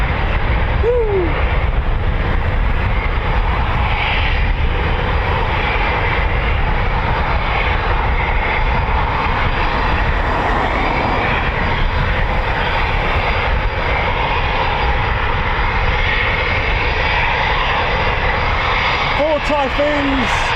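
Four RAF Eurofighter Typhoon FGR4 jets at Coningsby, a loud continuous engine roar filling the whole stretch, close and overpowering, with a person talking faintly underneath.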